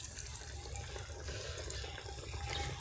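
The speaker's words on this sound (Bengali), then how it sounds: "এবারে এই যে পেঁয়াজির আকৃতি করেছি তাকে আমি তেলে ছাড়ছি।" Coriander leaf and onion fritters (piyaji) frying in hot oil give a steady, close sizzle with a constant bubbling hiss throughout, with no talking.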